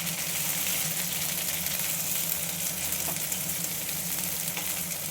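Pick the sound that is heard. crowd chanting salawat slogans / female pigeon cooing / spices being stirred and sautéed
spices being stirred and sautéed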